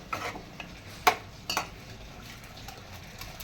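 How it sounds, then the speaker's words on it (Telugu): A spoon stirs chicken curry in a pan: quiet scraping and faint sizzling, broken by two sharp metallic clinks against the pan. "చికెన్లో బాగా కలుపుకోవాలి."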